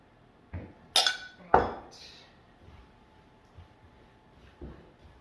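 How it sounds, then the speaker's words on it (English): Homemade granola is stirred in a bowl, giving a few sharp clinks of a utensil striking the bowl, a couple of louder knocks close together near the start, then a softer scrape and one last tap in a quiet room. "And we want to mix this really thoroughly."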